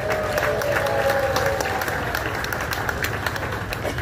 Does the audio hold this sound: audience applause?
yes